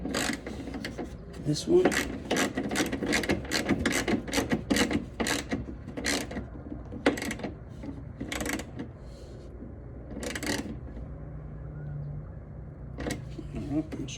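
A ratchet tightens a bolt while splash guards and side skirts go onto a Dodge Challenger. Quick repeated clicking bursts come close up, with pauses between them, and someone speaks briefly.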